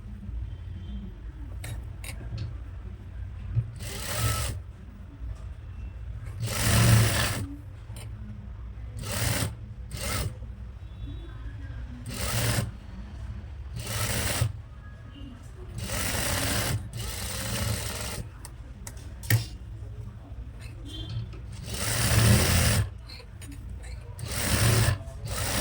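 Sewing machine stitching the side seam of a frock nighty, running in repeated short loud bursts separated by brief pauses, close up with a steady low hum underneath.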